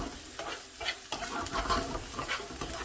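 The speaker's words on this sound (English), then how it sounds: "so that's onions sweating down nicely" Onions and chillies sizzle in hot oil in a pan, a steady close frying hiss broken by a few stirring scrapes and clinks, with no talk over it.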